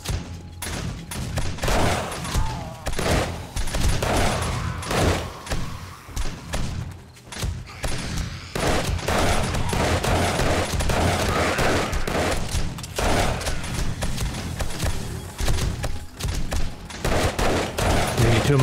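Automatic turrets fire into a zombie horde during a night battle in 7 Days to Die, played in VR: dense, rapid bursts of loud gunfire and thudding impacts, continuous for long stretches with brief lulls and no voices.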